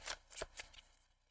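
Tarot cards are shuffled in a few quick riffling bursts, fairly faint and close, with no talking.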